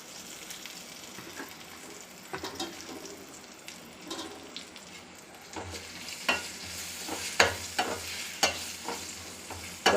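Beef pepper fry sizzles in a pan, a close, quiet frying hiss broken by scraping and clinking stirs that grow louder and more frequent toward the end.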